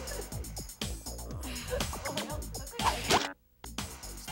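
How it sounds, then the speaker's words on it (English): Oil slowly poured into a container of water, with quiet plops and drips under rhythmic background music and a brief silent gap near the end. "Slowly pour the same amount of oil into the container."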